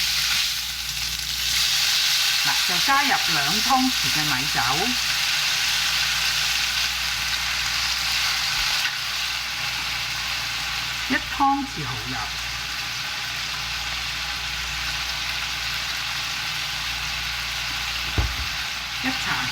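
Pork belly slices are stir-fried in a wok over high heat with dried chili flakes, rice wine and oyster sauce for twice-cooked pork. The result is a loud, continuous close sizzle, with a person talking over it in short bursts.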